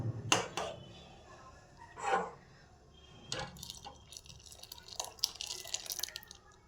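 Mixed Amul milk poured into simmering payesh, a rice pudding, giving quiet liquid splashes and drips in a few short bursts, close but faint.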